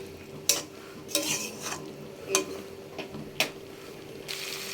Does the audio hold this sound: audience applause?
no